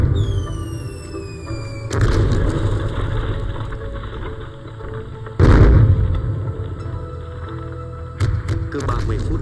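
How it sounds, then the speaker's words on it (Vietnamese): Artillery shelling pounds a narrow mountain valley road in a war film: several heavy booms and rumbling blasts hit over a droning engine-like background, with a voice speaking at times. "Chúng nó đang pháo kích."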